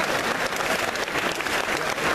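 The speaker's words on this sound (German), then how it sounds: "Ein kleiner Applaus für Dominik, der heute sein Leben verändern wird." A crowd claps steadily and fairly loudly for a couple of seconds in a shopping center, a dense, even applause with no voices standing out.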